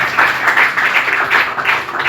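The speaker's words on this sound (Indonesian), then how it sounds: "Kita kasih tepuk tangan terbaik buat Tuhan." A church congregation breaks into applause, a dense, even wash of many hands clapping in a large room, loud and steady for a couple of seconds.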